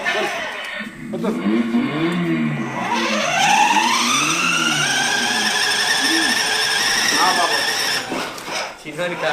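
A jeep and a bike strain against each other in a tug of war, engines revving in rising and falling whines, tyres skidding nearby, with people shouting and talking over the noise.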